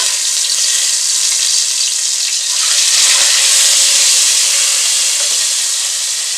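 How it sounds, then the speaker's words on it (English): A steady, loud sizzle of shrimp frying in a hot pan, continuous crackling and hiss throughout with no voices. "So I'm frying the shrimp."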